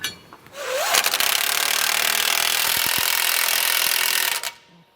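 A power tool snugs down the U-bolt nuts on a Roadmaster Exact Center steering stabilizer on a 2005 Winnebago motorhome: one loud, continuous whirring run of about three and a half seconds, starting abruptly and cutting off.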